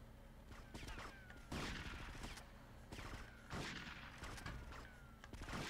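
Repeated shotgun blasts in GTA Vice City, several loud booming shots spaced roughly every second or two amid ongoing gunfire and game noise, dense and continuous throughout.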